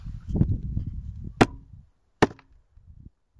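Two sharp, close knocks sound on a wooden beehive about a second apart, after a low rumbling and followed by a faint murmur from the colony inside.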